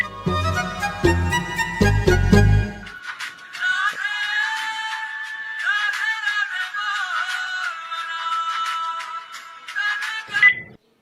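A phone ringtone plays a bright electronic melody, loud and continuous for about ten seconds, with a brief low rumble near the start.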